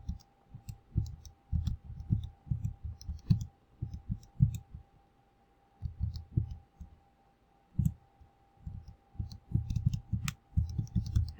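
Graphing calculator keys are pressed to enter lists of numbers, making close, muffled clicks and thumps in quick runs separated by short pauses.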